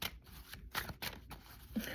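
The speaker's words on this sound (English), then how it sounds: "I can feel it as I'm shuffling the cards." Tarot cards are riffled and slid together in quick, soft bursts, a papery flutter repeating several times close by and fairly quiet.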